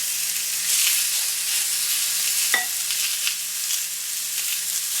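Chicken breast sizzling on a grill, a steady bright hiss of frying that runs unbroken for the whole stretch, close and fairly loud, with a faint scrape or stir partway through.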